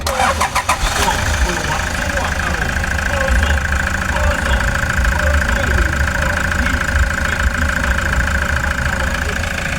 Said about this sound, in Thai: สตาร์ทนะครับผม